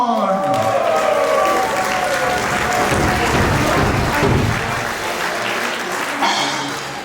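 An outdoor crowd claps for a brass band's bandmaster at a yard celebration, sustained loud applause following a voice at the start, with faint voices or a whistle near the end.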